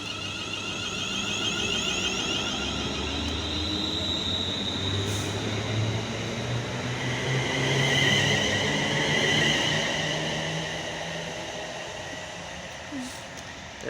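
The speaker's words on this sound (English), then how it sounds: "now departing will be the 1343 London North Western Railway service from Wolverhampton" A London Northwestern Railway passenger train departs Bescot Stadium station, its engine and wheels droning as it pulls away, swelling louder mid-pass with faint squeals and rumble before easing off.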